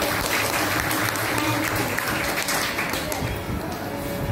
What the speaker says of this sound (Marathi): छोट्या मुलींसाठी जोरदार टाळ्या होऊन जाऊन दे